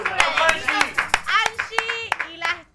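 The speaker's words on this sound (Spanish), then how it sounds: "Vamos a darle un fuerte aplauso a la cantante del momento" Sharp, sparse hand claps ring out at a live stream event as the audience greets a singer, several distinct claps spaced unevenly over excited voices talking and laughing close by.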